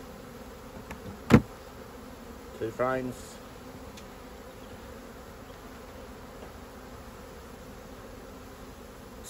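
Honeybees buzzing around an open hive during spring management as a single box is expanded to a double: a faint, steady insect drone with a couple of brief louder handling sounds and a short spoken remark.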